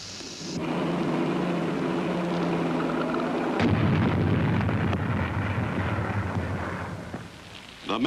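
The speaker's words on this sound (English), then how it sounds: "Bombs were set at strategic points on the airstrips." Bombs set on wartime airstrips explode in a heavy, continuous roar of blasts that rumble on for several seconds, with a sharp new burst partway through and a fresh crack at the end.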